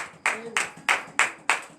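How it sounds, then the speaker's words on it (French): A congregation at a morning prayer service in Benin claps in acclamation, six sharp, evenly spaced claps in a steady rhythm, close and fairly loud, with a voice faintly underneath. "Donnez l'acclamation."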